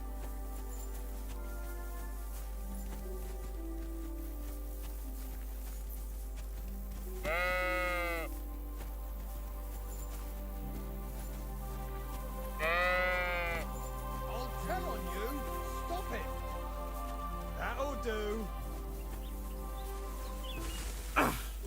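Sheep in Kingdom Come: Deliverance 2 bleat several times, with a loud bleat near the start, another a few seconds later and more scattered toward the end, over soft game music and a low hum, with some talk.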